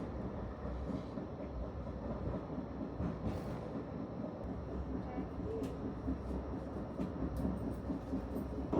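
A Blackpool tram riding along the coast towards Fleetwood, with a steady low rumble and rattle of wheels on rail filling the whole time, close and continuous, with faint scattered clicks and no clear talk.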